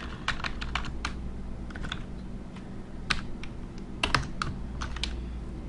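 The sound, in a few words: typing an expression on a computer keyboard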